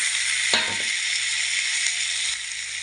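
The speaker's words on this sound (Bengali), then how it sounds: "পেঁয়াজটা দিয়ে এখন ভেজে নেব" Onion and vegetables fry in a small amount of oil, giving a steady, close hiss and sizzle with a brief burst of stirring clatter early on.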